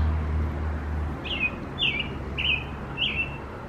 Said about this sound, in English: That's a loud chirping.